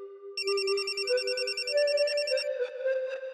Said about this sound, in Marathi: घ्या, आला फोन.